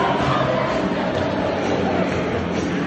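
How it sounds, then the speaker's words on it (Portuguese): Benfica supporters massed in a football stadium, a loud, continuous roar of crowd noise with chanting voices blended into one steady wash. "A torcida aí do Benfica"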